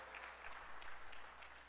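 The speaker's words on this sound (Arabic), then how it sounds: "وانا اقول لكم صفقوا له للشيخ صالح" An audience at the 2013 Jeddah Economic Forum applauds, a dense, steady burst of many hands clapping for under two seconds, filling the hall with no voice over it.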